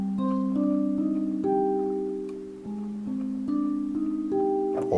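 Omnisphere Celestia synth notes in FL Studio play a slow sequence of sustained bell-like tones, each stepping to a new pitch in a gentle melodic phrase, clean and moderately quiet with no talking.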